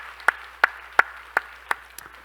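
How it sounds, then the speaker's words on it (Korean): Church congregation applause comes through as six crisp, evenly spaced claps, close and distinct, the last one slightly softer, in an otherwise quiet room. "우리 박수로 한번 격려합시다"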